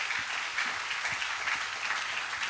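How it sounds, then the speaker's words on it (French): A church congregation applauds during a Sunday service, a dense, steady patter of many hands clapping at a moderate distance, continuous and without voices. "Acclamons le Seigneur"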